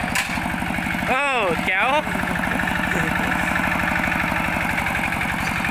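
A two-wheel hand tractor engine chugs steadily while being ridden from the rice field, its fast, even putter continuous and close throughout, with a brief spoken exclamation over it near the start.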